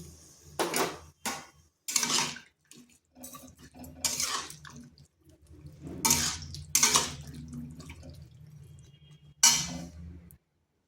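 Small amount of water poured into a pan of pumpkin stems for a home-style chorchori, heard as several short splashes and clinks of utensils, close and fairly quiet, with gaps of silence between bursts.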